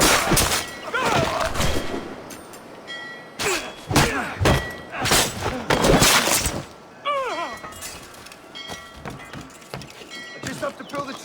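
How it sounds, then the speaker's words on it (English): A grenade goes off amid a chaotic Assassin's Creed IV Black Flag fight, with repeated sharp thuds, crashes and breaking impacts scattered through the scene while voices shout over the noise. "Grenade!"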